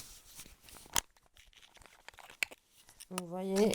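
Someone opens the packaging of a Luna eyelid gloss with a few sharp tearing and crinkling bursts amid quiet rustling, then a voice speaks up close at the end.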